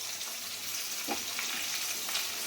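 Boiled, finely chopped bottle gourd leaves fry softly in a pan with ghee and green chillies, a faint continuous hiss with a couple of light stirring scrapes.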